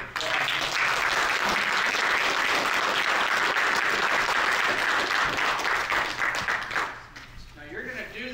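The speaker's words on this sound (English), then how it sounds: "give him a round of applause" A community band's audience breaks into sustained, dense applause that carries strongly for about seven seconds before thinning into scattered claps.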